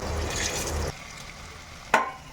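Raw banana kofta balls frying in oil in a kadai, a loud close sizzle that stops abruptly, followed by quieter room tone and a short clatter.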